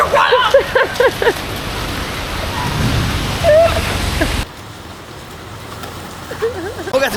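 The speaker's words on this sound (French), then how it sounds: "Regarde-moi ça comme il pleut." Heavy rain pours down on a Phnom Penh street in a steady wash, while voices chatter excitedly over it at the start and end.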